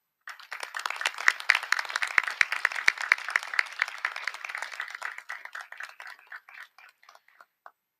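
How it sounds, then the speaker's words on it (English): A modest audience at an 8th grade promotion ceremony claps for the teachers, crisp close individual claps forming steady applause that thins out into scattered last claps near the end. "let's give them all a round of applause"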